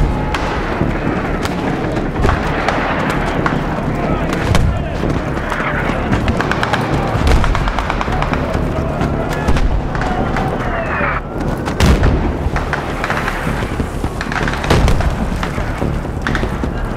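Mortar fire in the Battlefield 3 campaign mission set in Tehran, heard as repeated deep thumps and booms scattered through a dense, continuous battle din, with voices talking over the noise.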